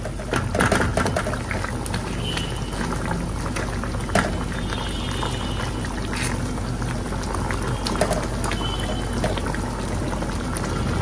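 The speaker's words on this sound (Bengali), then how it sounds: "এদিকে মাছটাও না আর একটু নাড়াচাড়া দিলাম" Skin-on fish cooks in a pan and is stirred, giving a dense, steady bubbling and sputtering that stays close and fairly loud, dotted with small pops and clicks.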